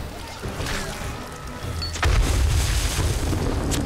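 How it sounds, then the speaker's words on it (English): A loud explosion in the video game 7 Days to Die during a multiplayer horde night, a deep boom that hits sharply midway and rumbles on over lighter background game sounds. "Incoming explosion."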